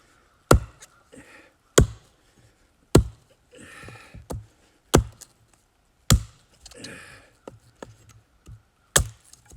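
A hatchet chops a wooden tent stake to sharpen it for a hot tent, landing eight sharp, loud strikes at roughly one-second intervals, with softer scraping and knocking of wood between blows.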